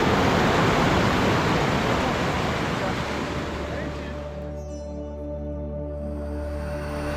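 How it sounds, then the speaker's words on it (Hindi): Fast-flowing Ganga river water at Gangotri, a loud dense rushing roar that dominates the first few seconds, then drops away sharply into a quieter tonal hum. "पानी का फ्लो बहुत तेज़ है"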